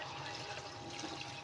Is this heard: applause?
no